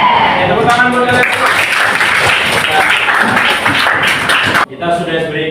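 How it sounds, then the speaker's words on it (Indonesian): A classroom of students claps together in a dense, loud burst lasting several seconds, which cuts off abruptly, and a voice speaks briefly at the start and again after the clapping ends. "Tepuk tangan buat kalian"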